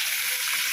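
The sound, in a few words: chutney paste sautéing in a pan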